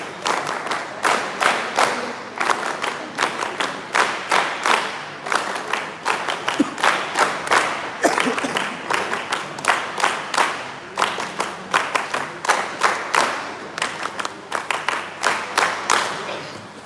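An audience at an NSS West Bengal university event claps in a steady unison rhythm, strong and regular beats repeating throughout, loud and close with crowd noise underneath.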